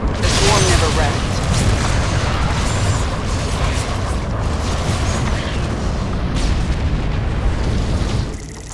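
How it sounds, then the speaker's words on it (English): A missile strike explosion in StarCraft II: Heart of the Swarm booms loudly amid continuous rumbling battle noise and blasts, with game voices speaking over the chaos before the din drops off at the end. "Warfield has launched another missile at our forces"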